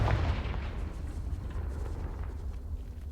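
A Confringo blasting spell explosion in the video game Hogwarts Legacy hits with a loud, deep boom at the start, followed by a rumbling, crackling blast that slowly fades.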